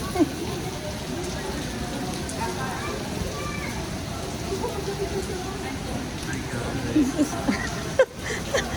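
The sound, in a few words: rain falling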